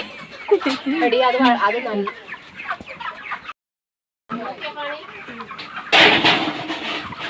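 Chickens cluck busily up close on a poultry farm, a steady flock chatter with a brief gap of silence partway through before the clucking resumes.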